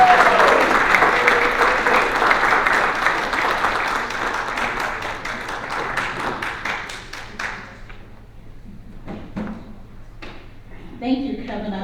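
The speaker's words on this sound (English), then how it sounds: "Please give her a round of applause." Audience applause at a Golden K Kiwanis club meeting in Decatur as a speaker is introduced, sustained clapping that thins out and dies away, followed by a few scattered claps and a brief voice.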